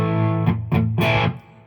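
Electric guitar played through a Dr. J Lancelot distortion pedal, three thick, creamy distorted chords ringing one after another up close, the last sustaining before cutting off.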